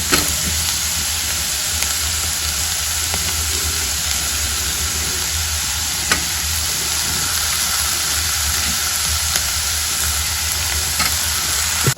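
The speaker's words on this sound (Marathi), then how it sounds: "आतां हांव भितून टोमॅटो घालता आनी तेवूय बरें रोस्ट करून घेता" Tomatoes roasting in a pan for a capsicum dish, a continuous close sizzle with occasional stirring clicks, steady and even throughout.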